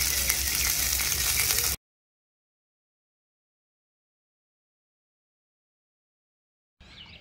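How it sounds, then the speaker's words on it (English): Sausage and eggs sizzle on a Suburban griddle grill at a campground, a steady broadband hiss for under two seconds that cuts to silence, then a faint return of the frying at the very end. "sausage and eggs going on this suburban griddle grill"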